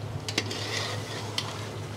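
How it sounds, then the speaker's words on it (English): Meat sizzles steadily in hot sesame oil for a Kabuli pilau, with a few light metallic clinks of a utensil against the pan and no voices. "So all it's doing is frying, cooking away in its own juice and that lovely sesame oil."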